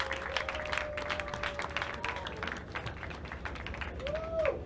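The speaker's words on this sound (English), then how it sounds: "please, a round of applause as we welcome" An audience at a graduation ceremony claps in scattered, crisp hand claps that build into moderate applause, heard at middle distance in a hall with a faint tonal hum.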